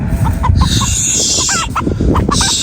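A rooster clucks repeatedly in short, sharp calls over steady outdoor background noise.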